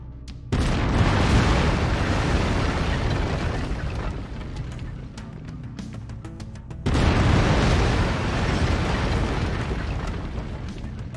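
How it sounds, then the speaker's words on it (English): Autocannon fire in the video game MechWarrior 5: Mercenaries comes as a sustained roaring, booming barrage that starts abruptly, eases slightly, then surges again with a fresh heavy burst, loud and dense throughout. "I've mapped the autocannon to Weapon Group 1. You're free to fire whenever you're ready."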